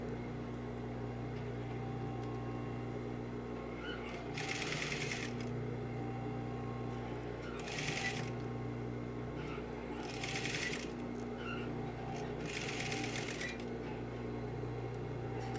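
Sewing machine stitching a tulle skirt onto its base fabric, four short bursts of rapid stitching separated by pauses, heard over a constant low mechanical hum.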